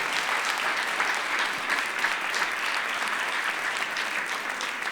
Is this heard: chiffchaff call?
no